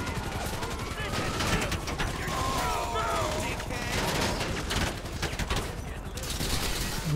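Gunfire crackles through a film fight scene, rapid bursts of shots layered over a dense, loud action soundtrack that runs steadily throughout with little pause.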